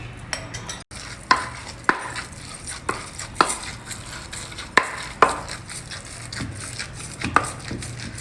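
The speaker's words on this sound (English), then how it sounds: "Just mash it well with a masher or the back of a spoon, whatever you have." Cooked rice and dal are mashed with ghee using a masher or the back of a spoon, giving a series of sharp, irregular metallic taps and scrapes against a pot over a quiet background, with no talking.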